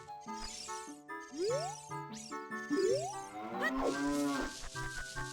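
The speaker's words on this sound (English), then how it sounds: "These cows are mooing." Cartoonish cow moos from The Legend of Zelda: Ocarina of Time repeat over a jingly, chiming musical loop, with sliding tones and tinkling bell-like notes throughout.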